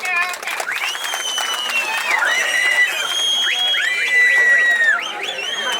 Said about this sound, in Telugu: గన్ని వీరాంజనేయులు గారు మరియు అందరూ ఒకసారి క్లాప్స్ కొట్టండి.